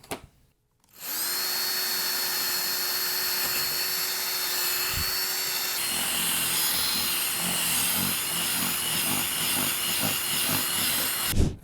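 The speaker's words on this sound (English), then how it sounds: "And we're going to have to drill." A power drill whines at a steady high pitch for about ten seconds, close up, with grinding and rattling as it bores holes in a model railroad's upper deck.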